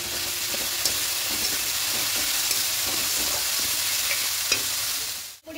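Onion and garlic paste sautés in oil with a little ghee, a steady close sizzle broken by faint scraping stirs, ending with a sudden clatter and drop at the close.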